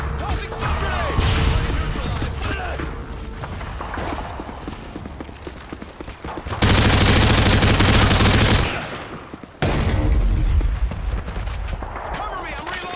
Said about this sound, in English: Tossing sub grenade!